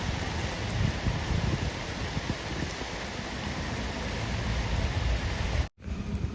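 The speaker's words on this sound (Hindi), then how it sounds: "बारिश आ रही है।" Rain falls in a steady, even wash of hiss at moderate volume, continuous until a brief cut near the end.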